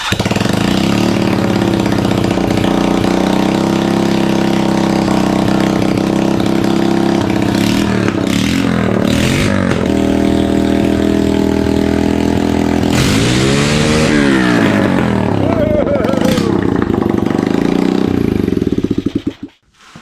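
A Honda ATC 125 three-wheeler engine fitted with a prototype piston runs loud and close, idling steadily and then revving up and down several times before cutting off abruptly at the end.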